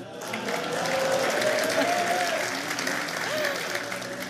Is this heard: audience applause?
yes